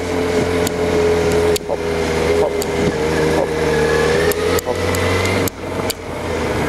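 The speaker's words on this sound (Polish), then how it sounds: "Rozpędzamy motocykl" A motorcycle's engine runs steadily and picks up speed as it accelerates to 30 km/h on a riding-test training ground, with a constant loud drone, a couple of brief dips and wind noise throughout.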